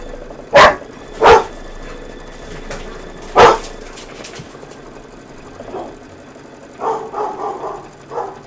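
A dog barks three sharp, loud times near the start, followed after a pause by a quieter run of softer yips and grumbles.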